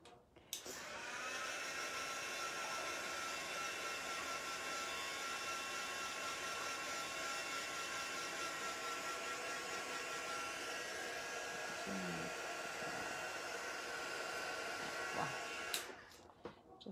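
A hair dryer runs at a steady, loud blowing roar for about fifteen seconds to dry paint on a painted piece, then clicks off near the end.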